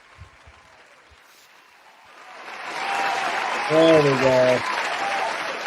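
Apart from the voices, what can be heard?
applause sound effect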